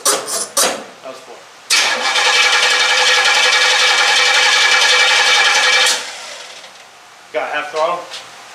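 A car engine cranks and catches after its fuel is primed, then runs steadily and loud for several seconds before cutting off, with brief clatter before and after.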